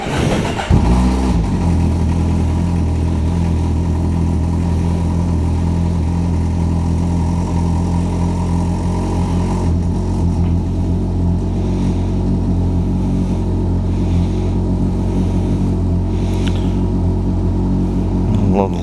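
An old motorcycle engine coughs to life and settles into a steady, loud, rumbling idle that runs on without a break.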